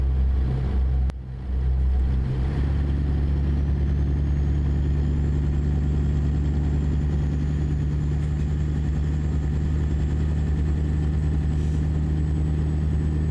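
A Kenworth W900 truck in American Truck Simulator, its diesel engine droning steadily and evenly throughout with a low constant hum, after a brief click near the start.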